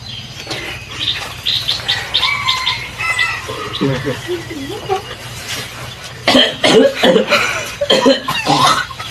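A few rough coughs close by, mixed with speech from a couple of people in a noisy room with a low hum.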